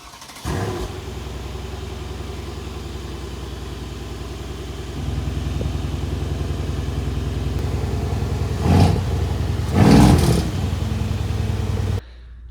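A bi-turbo car engine idles with a deep, burbling exhaust, stepping up in pitch midway, then giving two short revs before cutting off abruptly.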